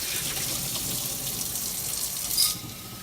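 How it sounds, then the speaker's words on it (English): Water pours into a mason jar of sprouts for rinsing, a steady close hiss and trickle with a brief louder splash near the end before it eases off. "I just put some water in here, and I do kind of give them a shake the first couple times just to rinse them off"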